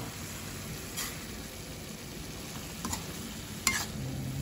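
Carrots and potatoes being stirred with browned ground pork in a frying pan, a steady soft sizzle with a few scraping clicks of the utensil, close and alone.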